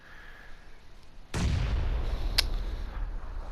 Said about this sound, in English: So now it's like, right, let's throw some grenades.